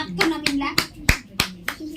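A few uneven hand claps ring out at a small cake-cutting celebration for a wedding anniversary, about six sharp separate claps over faint background voices.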